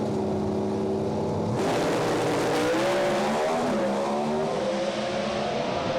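Two Pro Stock drag race cars at East Coast Thunder in Sydney sit idling, then launch with a sudden loud surge of engine roar, revs climbing in rising sweeps as the cars pull away, dominating the scene.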